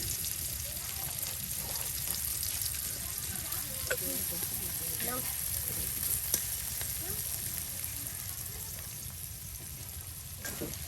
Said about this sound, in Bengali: পেঁয়াজটা একদম পেঁয়াজ আর রসুন তেলে ভাজা ভাজা হয়ে যাচ্ছে